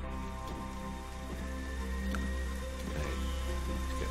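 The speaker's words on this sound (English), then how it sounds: "here comes the rain" Rain falls steadily in the Dig or Die video game, a dense, even patter on surfaces over a constant low ambient drone, with no voices.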